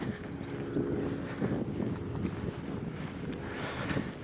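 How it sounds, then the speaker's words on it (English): Wind buffeting a microphone outdoors at castle earthworks with banks and ditches, a continuous rough low rumble with gusty swells and no voice heard. "it's just getting a bit of wind here"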